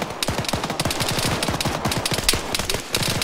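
Enemy automatic gunfire in Arma 3 rattles in a fast, continuous stream of sharp shots, loud and close, with almost no talk over it.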